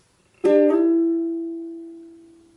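A single ukulele chord from a song is strummed once, close and clear, then left to ring and decay slowly.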